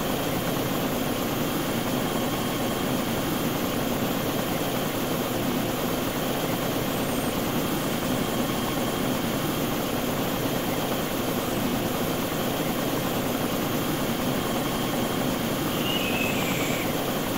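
Helicopter engine in the ARMA II video game, a steady droning rotor and engine whine that holds constant and loud throughout with no talking.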